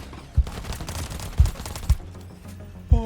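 Video game gunfire in a roller coaster game, sharp shots spaced irregularly with a rattling burst between them over background game sounds, no talking.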